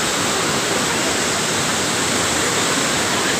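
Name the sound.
Kynrem waterfall in Cherrapunji, Meghalaya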